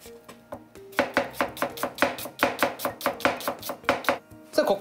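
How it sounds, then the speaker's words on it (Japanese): Garlic being minced with a knife on a cutting board, a fast, steady run of sharp chopping taps close up with no talking, while tofu lasagna is being prepared. "ニンニクもみじんしといて"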